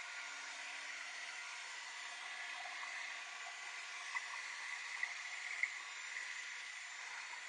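A heat tool blows steadily to dry a paper craft, a constant close airy whir with faint ticks, with no talking.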